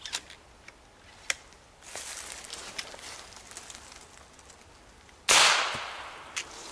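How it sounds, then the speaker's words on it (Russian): A few sharp snaps, then a single loud crack from a PCP air rifle bursting a bottle, with shattering that quickly fades, followed by one smaller click. "Вот, в принципе, взорвали бутылочку."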